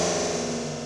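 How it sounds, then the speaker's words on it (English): Metallic sweep transition from a Multiphonics CV-1 modular synth module, a dense, steady wash of noisy tones with bright sustained partials, held evenly at moderate level throughout. "So metallic sweep here sounds like this."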